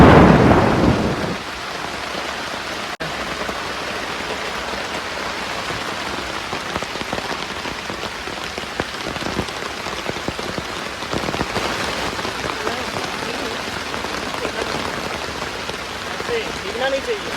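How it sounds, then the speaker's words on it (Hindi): Heavy rain pouring down on a forest camp in India, a dense continuous hiss of drops on surfaces with a low rumble of thunder beneath, steady and close for the whole stretch. "अब बारिश बड़ी तेज़ शुरू हो गया है।"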